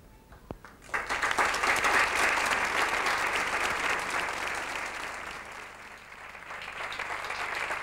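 A seated audience breaks into sustained, dense applause after a manifesto is read aloud at a memorial gathering in Ermua, the clapping starting abruptly, holding strong, then easing slightly while continuing.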